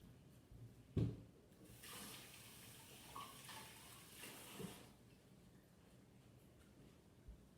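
Tap water runs and splashes while poblano peppers are rinsed at a kitchen sink, a steady faint wash with a brief louder splash near the start and a soft knock late on.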